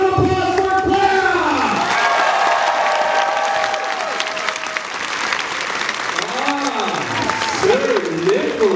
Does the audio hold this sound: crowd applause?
yes